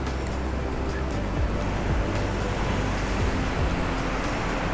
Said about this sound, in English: But I'll just show you the beach.